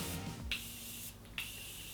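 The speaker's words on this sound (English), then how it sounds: "I'm gonna grab this Morphe setting spray" Two quick bursts of Morphe aerosol makeup setting spray, each a short close hiss about a second apart, with quiet room tone between them.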